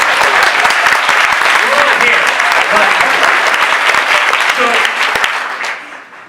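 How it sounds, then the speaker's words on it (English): Loud applause from an audience at a book event in New York City, a dense sustained clapping that fades out near the end, with voices and cheers under it. "applause."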